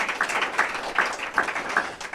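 Applause from an audience at a Bridge Fire community meeting in San Bernardino County, a steady wash of many hands clapping with soft rhythmic peaks, moderately loud and continuous throughout.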